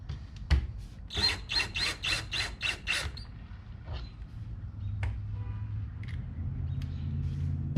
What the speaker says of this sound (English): Then we simply back this screw out.